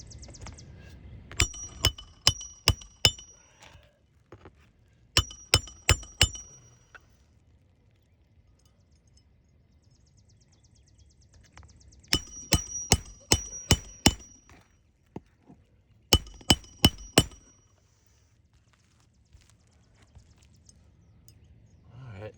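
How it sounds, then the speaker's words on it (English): Hammer blows on asphalt roof shingles during a one-shingle roof patch, the shingles getting worse with each blow, struck in quick bursts of four or five sharp, ringing hits, separated by pauses with low background noise. "You can see with each hammer"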